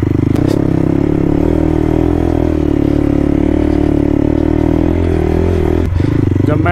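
An off-road motorcycle rides a dirt track in second gear, its engine a loud, close, steady drone with a slight rattle and scrape from the bike, holding an even pace without big revs.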